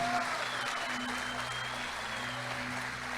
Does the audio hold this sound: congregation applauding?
yes